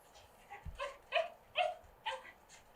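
A dog gives a quick run of soft yips and whimpering barks, about five short calls in an even rhythm, faint and close.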